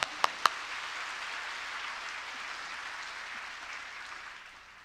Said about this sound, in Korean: 우리 주님께 영광의 박수 올려드립니다.